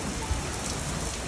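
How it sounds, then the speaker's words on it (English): Heavy rain during a thunderstorm in Houston, Texas pours and blows hard against a nearby surface, a dense, loud hiss of drops with no voices. "Oh, the rain's blowing right on us."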